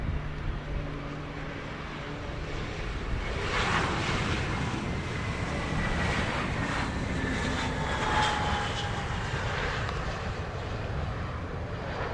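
An American Airlines jet lands at Montego Bay airport, its engines producing a continuous broad roar with rising and falling whines, heard at moderate distance without talk.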